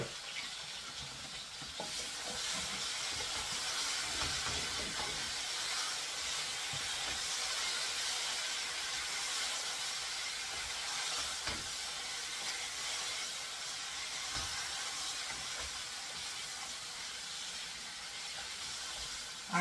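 Curry chicken back steams uncovered in a pot with no added water, giving a steady close hiss and soft bubbling sizzle that carries on evenly for about twenty seconds.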